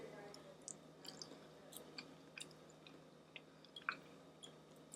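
Someone quietly chewing vegan French toast sticks, with soft, scattered crunchy clicks and small moist bites spread unevenly over a faint, hushed background.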